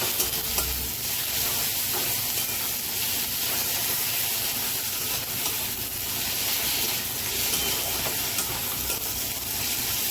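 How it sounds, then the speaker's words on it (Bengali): Onion, ginger and garlic paste fries in hot oil in a pan for a Bengali potol chingri korma, a loud, steady sizzle and hiss with occasional stirring, close and continuous with no voices. "এই যে পেঁয়াজ আদা রসুনের পেস্ট এই সামান্য একটু দিলাম, দিয়ে ভেজে নেবো।"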